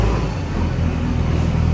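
A vehicle moves on a busy road during a hectic day of errands, heard as a loud, steady rush of engine and road noise close by with no clear pass-by swell.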